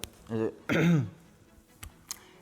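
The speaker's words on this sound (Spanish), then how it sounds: "Pero me ha entrado la tos." A person clears their throat with a short rough burst, then a longer harsh cough-like rasp, followed by faint small sounds.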